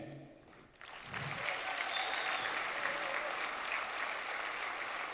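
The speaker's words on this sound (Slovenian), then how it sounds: "bi predlagal, da damo maturantom še en velik aplavz" Large audience applauding graduates at a secondary health school prom dance in Murska Sobota, starting after a brief quiet moment and swelling into sustained, dense clapping that holds steady to the end.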